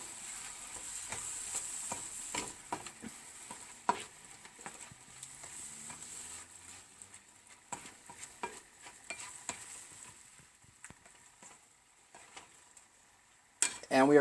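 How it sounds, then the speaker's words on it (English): Blueberries being stirred into a sizzling pan, with spoon scrapes and clinks against the pan over a steady frying hiss and a sharper burst near the end; no talk. "Mixing all this in together."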